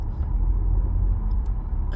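Steady low rumble of downtown road traffic around a car stuck in a jam, engines idling and rolling past at an intersection with a blinking red stoplight, continuous and fairly close with no talk.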